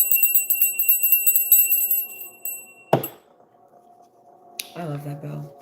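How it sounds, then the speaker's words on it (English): A small bell rings clearly once and its tone rings on, preceded by scattered light taps and a sharp clatter, with a brief voice near the end. "I love that bell."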